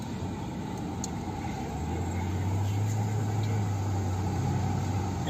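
A car drives along a road, heard from inside as a steady engine hum and road rumble, with a low droning tone that swells in the middle and holds.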